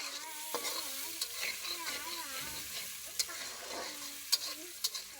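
Noodles cooking in a pan give a soft, continuous frying sizzle with stirring, as a utensil scrapes and knocks the pan in irregular light clicks.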